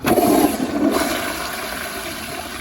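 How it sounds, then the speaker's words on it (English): An American Standard Yorkville toilet flushes a bowl of leaves: a loud, close rush of water at the start that tapers into a softer, fading swirl. "It'll be ready to flush it"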